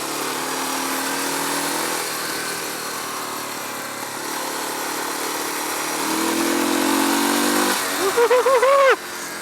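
Suzuki DR dual-sport motorcycle engine heard while riding, a moderate steady hum that shifts pitch between gears and rises near the end with a brief rev, with wind noise behind it.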